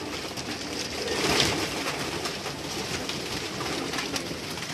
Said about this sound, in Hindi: ये कुछ पट्टी वाले कबूतर हैं